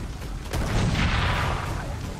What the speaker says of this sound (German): Ich weiß nicht, warum das da explodiert ist